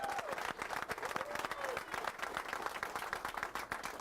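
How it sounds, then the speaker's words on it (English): Crowd at a town meeting applauds the fire department, a fairly faint but steady burst of many hands clapping, with a voice and some cheering mixed in. "Let's give the fire department a huge round of applause."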